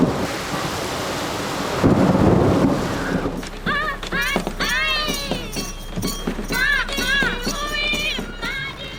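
A thunderstorm breaks over a dry landscape as the rainy season may be starting: a heavy rumble of thunder and a rush of rain, then steady rainfall. Birds call repeatedly over the downpour.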